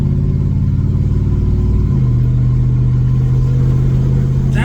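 Ford F150 with a 5.0 V8 and MBRP exhaust rumbles from inside the cab, a deep steady engine drone that shifts into a lower, even tone partway through as the revs change.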